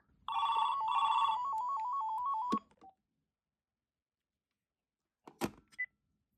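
A VTech color-display cordless hotel phone rings on an incoming room-to-room call: a bright, warbling electronic melody lasting about two seconds, then a few sharp handling clicks after a pause of silence.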